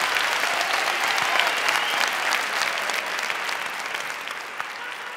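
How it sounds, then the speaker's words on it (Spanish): An audience at a final gala for a most-beautiful-village contest gives sustained, dense applause that fills the room. The clapping stays strong throughout and tapers only slightly toward the end. "¡Aplauso, aplauso!"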